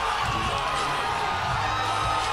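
Crowd at a live MMA event cheering and whooping right after a fight finish, a dense, loud roar of voices that stays steady throughout.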